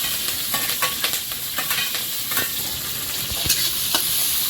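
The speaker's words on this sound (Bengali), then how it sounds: "তেল দিয়েছি একটু কালো জিরে রসুন কুচি আর কাঁচা লঙ্কা" Nigella seeds, chopped garlic and green chili frying in oil: a steady, close sizzle with crackling pops and occasional stirring scrapes throughout, with no voices.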